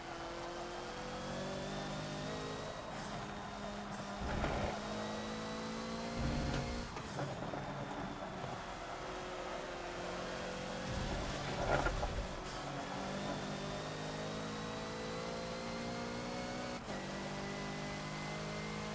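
A Hoonigan Ford Focus in Forza drives a lap of Road Atlanta, its engine droning steadily with rising and falling revs as the throttle is eased back on, loud and continuous with no other voices.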